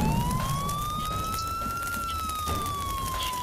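A police car siren in a video game wails with one long, slow rising and falling tone, loud and continuous, over a rumbling background with no talking.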